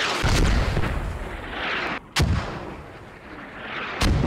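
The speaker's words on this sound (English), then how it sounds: "The mortars are pretty close." Mortar fire in the military shooter game Squad, three loud, close, booming blasts spaced about two seconds apart, each followed by a rumbling decay.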